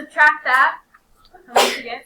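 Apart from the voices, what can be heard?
sneeze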